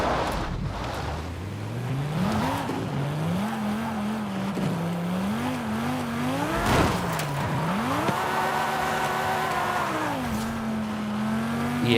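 Mercedes drifting in the racing game Forza Horizon 5, driven with a steering wheel: a steady, loud engine drone rising and falling in pitch with revs and gear changes, mixed with tire squeal throughout.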